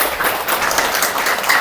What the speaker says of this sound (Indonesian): Tepuk tangan buat kita semuanya bos.